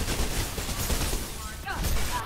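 Gunfire in Mirror's Edge (PC) as servers are shot, rapid dense bursts of shots with crashing impacts, loud and continuous, with speech-like voices mixed underneath.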